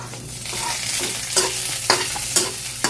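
Onion and garlic sautéing in a hot pan, a steady close sizzle with a spoon scraping and stirring through it in several distinct strokes; no one speaks.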